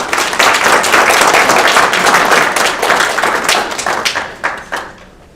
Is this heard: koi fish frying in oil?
no